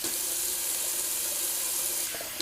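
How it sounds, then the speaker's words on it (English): Cold tap water runs steadily in a bathroom sink while a razor is rinsed, a continuous close hiss of flowing water with no pauses, heard alone. "let me just give a cold water rinse."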